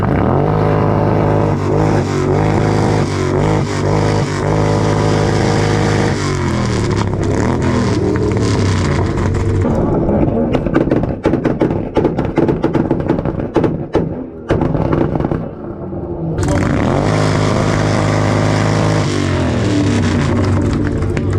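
A Toyota Supra engine with a 2-step setup revs loudly and repeatedly, rising and falling in pitch, with a busy crowd-like background and deep rumbling throughout.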